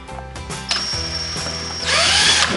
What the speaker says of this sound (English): we're also going to drill the other drill holes